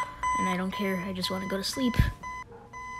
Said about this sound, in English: Wait, what is the alarm for?